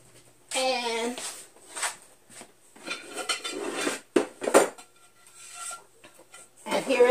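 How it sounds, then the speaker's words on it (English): A microwave's glass turntable and its rotator ring being unpacked from foam and handled, giving clinks, scrapes and rubbing taps of glass and plastic, with talk in between. "the turntable, and the turntable rotator like that"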